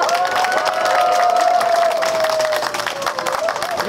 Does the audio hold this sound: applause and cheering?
yes